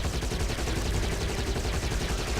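Rapid machine gun fire in a military strategy video game, an unbroken dense stream of shots filling the whole stretch at steady loudness with no speech over it.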